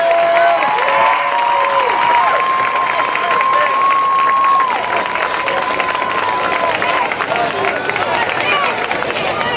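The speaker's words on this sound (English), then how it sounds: "Let's have a very big round of applause." Crowd at a high school football game in Roanoke Rapids applauds and cheers over a public-address announcer, with loud stadium noise and whistle-like tones running under the talk.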